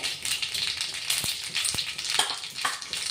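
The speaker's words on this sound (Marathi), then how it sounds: "तेल गरम झालेलं आहे मोरी टाकतोय अपन आता अर्धा चमचा मोरी एक चमचा जिरे" Mustard seeds and cumin seeds hitting hot oil in a pan, giving a steady close sizzle with scattered crackles and a few sharp pops.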